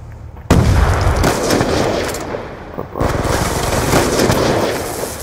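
Loud, dense gunfire from the video game Black Ops 2 in a 1v1 match, sniper rifle shots among heavy bursts and booms, filling the whole clip with only a brief drop between volleys.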